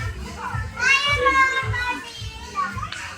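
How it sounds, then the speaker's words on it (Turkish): A crowded toy store in the Forum Istanbul mall is loud with children playing and chattering close by, and a voice rises in bursts over a busy background hum. "burası çok çok kalabalık onun için çok sesli konuşamıyorum"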